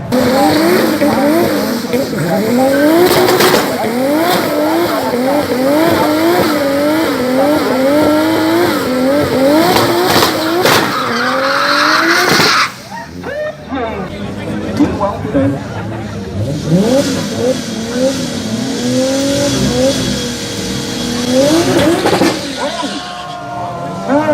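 Drag racing vehicles at a Killarney, Cape Town strip rev and accelerate hard, engines rising in repeated loud pulls with tire squeal, a brief drop partway, then more engine roar under constant commentary.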